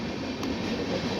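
A train rolls past at a railway station in India, a steady close rumble and rail noise continuing throughout the short stretch with no talk.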